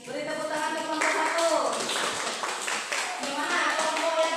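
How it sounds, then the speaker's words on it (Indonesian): Classroom applause for a student group after their presentation, a dense burst of clapping from many hands with children's voices mixed in, steady throughout. "Beri tepuk tangan ke kelompok"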